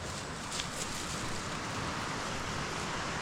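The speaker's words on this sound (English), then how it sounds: "listen to the fast moving water over all the rocks, creating these whitewater rapids" Fast whitewater rapids rushing over rocks in a countryside river, a steady broadband roar heard close and alone without any talk.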